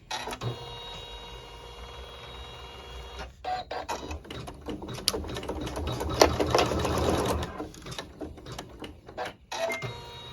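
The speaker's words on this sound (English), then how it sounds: "we're going to sew a tack down stitch on both sides, both ends." Sewing machine running a tack-down stitch in neutral thread on a quilt block, starting and stopping in short bursts with a busy mechanical whir and clatter, close and fairly loud.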